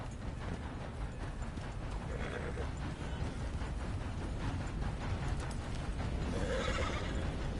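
A horse in Red Dead Redemption II gives a loud, drawn-out whinny over steady clopping hooves, set against a dense rumbling wash of noise that continues throughout.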